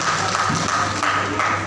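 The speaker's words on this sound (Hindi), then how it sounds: "आप लोगों से भी कहता हूं कि एक ताली से इनका स्वागत कर रहे हैं" Audience at a political event on caste census and OBC issues applauds to welcome a guest, a steady patter of clapping from a crowd with murmuring underneath, moderately loud throughout.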